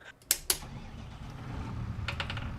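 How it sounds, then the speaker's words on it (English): An ignition key clicks in a Farming Simulator tractor, giving a couple of sharp, close clicks early on, then a softer cluster of clicks over a low engine hum. "is that the ignition key I keep hearing clicking?"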